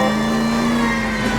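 A car engine drones steadily at a sustained high pitch, loud and close throughout, as the vehicle is driven hard in L.A. Noire.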